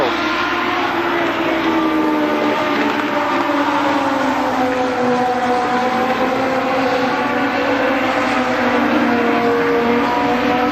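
Race cars roar around the Columbus Motor Speedway oval during a late lap of the 1998 Fall Speedfest, a loud, steady, layered engine drone that never lets up, with no clear voices above it.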